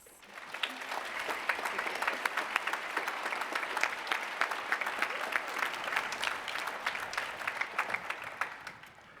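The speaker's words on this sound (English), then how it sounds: "Let's give these individuals one more round of applause." A graduation valediction crowd at a university gives a sustained round of applause, dense clapping holding steady for several seconds before tapering off.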